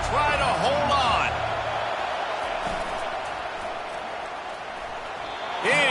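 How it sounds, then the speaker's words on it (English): Loud stadium crowd roaring steadily at a college football game, USF against Alabama, with a brief commentator voice at the start and another rise in the cheering at the end. "This crowd even louder now on second down as they try to hold on."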